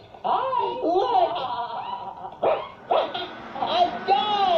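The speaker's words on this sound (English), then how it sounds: "A dog." Cartoon dog barking in a home scene, several short yips and bow-wows mixed with chuckling and voices talking over it.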